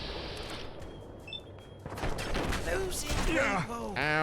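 Gunfire from an enemy in Fallout: London, a post-apocalyptic shooter game, with bursts of shots and mechanical clatter mixed into dense game noise while a voice speaks over it.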